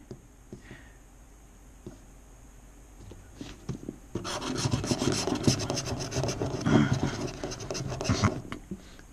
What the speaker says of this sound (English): Look how easy this scratches.